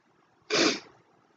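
A single sneeze from a person with a sinus headache, sharp and close, a short explosive burst that trails off quickly against a quiet background.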